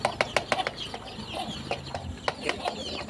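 Chickens cluck in short repeated bursts, fairly close, with rustling and light scuffling around them and no clear speech.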